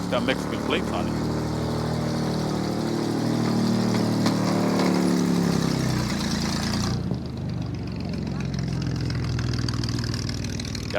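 A car idles at a swap meet through small 1-inch exhaust pipes, giving a steady raspy drone with a busy outdoor crowd and voices around it.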